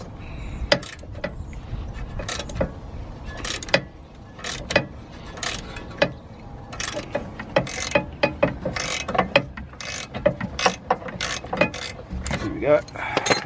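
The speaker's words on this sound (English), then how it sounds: "undo the nut with the impact wrench" An impact wrench undoes the nut on a BMW drop link, a rapid series of loud, close hammering rattles in uneven bursts, with clanking of tools and metal parts between them.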